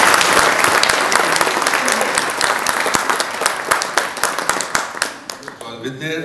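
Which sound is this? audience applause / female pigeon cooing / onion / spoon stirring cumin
audience applause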